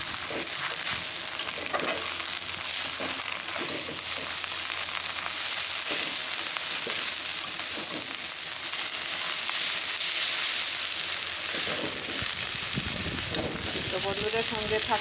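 Leafy greens fry in a pan with a little oil, salt, turmeric and chilli, sizzling steadily with occasional stirring clatter while someone talks over them.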